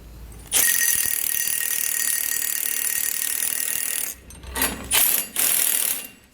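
A ratchet with a deep well socket tightening nylock nuts on an axle strap bracket of a 2016 Ford F-series during an air helper spring install, a long steady close clicking run followed by a few shorter bursts.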